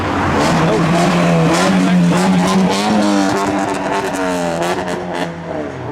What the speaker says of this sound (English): Revving and making his entrance.